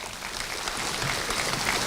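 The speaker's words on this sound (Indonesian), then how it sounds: "tepuk tangan buat Mas Tato." An audience at a comedy show claps together in a steady, dense burst of applause that swells slightly toward the end.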